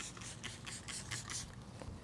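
A quick series of soft, close spritzes of glass cleaner from a spray bottle onto a car window, about seven or eight short hissing bursts in an uneven rhythm.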